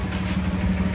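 A tractor engine runs steadily on a nature trail ride, with a low, continuous idling rumble and a faint hiss above it. There is no talk.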